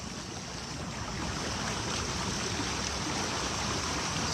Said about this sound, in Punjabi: ਮੀਂਹ ਦਾ ਜਿਹੜਾ ਪਾਣੀ ਆ ਉਹ ਇਸੇ ਤਰ੍ਹਾਂ ਗਲੀਆਂ ਦੇ ਵਿੱਚ ਆਉਂਦਾ ਹੁੰਦਾ ਆ